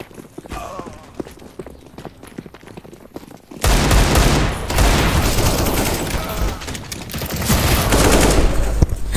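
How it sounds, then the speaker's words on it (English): CS:GO gunfire during a rush on B: scattered shots and footsteps at first, then a sudden loud burst of sustained automatic fire and overlapping rounds that continues to the end. "Thank you for shooting me."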